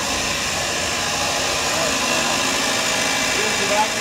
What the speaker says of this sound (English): Here's the vacuum pump.